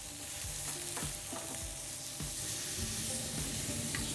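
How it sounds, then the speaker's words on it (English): Steak sizzling in a frying pan in a restaurant kitchen, a dense, even crackling hiss throughout with faint clicks of pan movement, fairly quiet and close. "Slowly place the steak in the pan."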